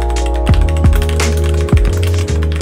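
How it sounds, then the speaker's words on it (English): Typing on a compact clicky keyboard gives a handful of crisp, close clicks at uneven intervals over a steady tonal hum. "It takes up less space on the desk, and it also has a very satisfying clicky-clack"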